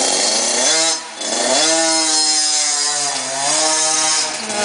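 A KTM 50 two-stroke youth dirt bike engine revs loudly and up close, its buzzing pitch rising and falling through repeated throttle blips with a brief dip before climbing again.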